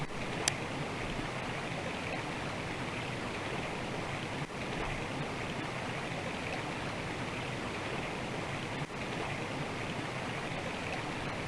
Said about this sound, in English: This is how we get across this waterfall.